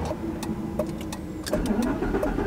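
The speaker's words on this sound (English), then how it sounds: "as soon as you turned it off and then back on, the car ran completely fine again" A twin-turbo Lamborghini engine firing back up after dying beside a motorway in Spain, with brief cranking bursts then a steady close idle rumble, heard alone without talk.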